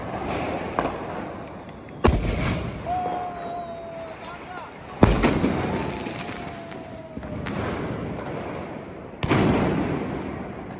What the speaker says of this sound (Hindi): आईडी ताबड़तोड़ पटाखे जल रहे हैं।